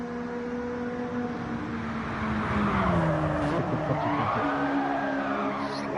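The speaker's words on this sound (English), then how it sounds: "Sliding that car, changing that gear," A race car in a racing video game slides through a corner and shifts gears, its engine pitch sweeping up and down in a steady, continuous drone with tire scrub mixed in.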